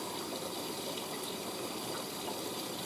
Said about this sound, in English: This machine does do a fill through the conditioner compartment first to soak it all in